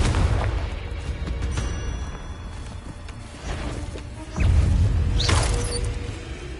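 Confringo blasting curse explosions in a Harry Potter video game: heavy, booming blasts over a dense, rumbling background, with one burst near the middle and a louder, deeper one shortly after.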